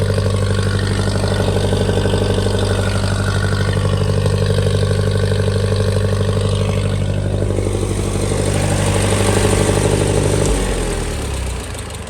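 A tractor engine runs steadily at a low, even idle with its hydraulics working to lift the hitch, a constant drone that slightly shifts in tone before dropping off near the end.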